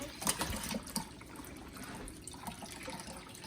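Herbal lilac-flower tea poured from a container into a big bowl, a close splashing liquid stream that is strongest at the start and settles into a steady trickling flow.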